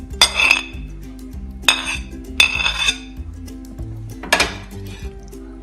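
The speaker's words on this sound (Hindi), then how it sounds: "इसे अच्छा से मिक्स कर लेते हैं।" A spoon clatters and clinks against a bowl while a white chickpea salad with black olives and mushrooms is mixed: four sharp clusters of knocks with short quiet gaps between them, close and with no talk.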